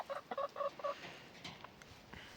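A hen in a home henhouse clucks in a quick series of short, close calls, then settles into softer scattered sounds against quiet background noise.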